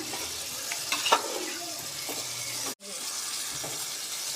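Eggs frying in a pan for an egg dum biryani, a steady close sizzle with soft scraping stirs throughout and a brief break near the end.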